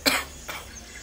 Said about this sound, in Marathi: खोकलं माझं काही लवकर जात नाही आहे